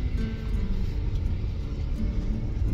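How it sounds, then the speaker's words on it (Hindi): A car drives along a bumpy road, its cabin filled with a loud, steady low rumble and road noise, with small bumps and no talking. "गाड़ी चल रही है"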